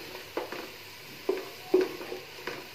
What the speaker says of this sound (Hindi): कंटिन्यूसली हिलाती रहूंगी ताकि इक्वली ये सारी जो प्याज है वो गोल्डन हो जाए।